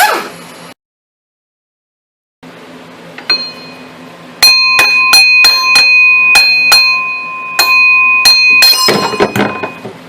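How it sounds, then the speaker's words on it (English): A bell rings several times in a steady series of bright metallic strikes with a sustained ringing tone, loud and close, after a short silence. "Ring the bell."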